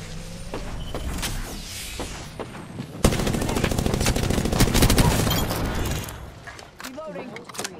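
Dense gunfire from an Apex Legends battle royale match rattles loudly, with sporadic shots early and a sustained burst of rapid automatic fire from about three seconds on, set against game ambience and a voice talking.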